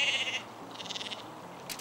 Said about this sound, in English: These are Welsh Mountain Black Sheep.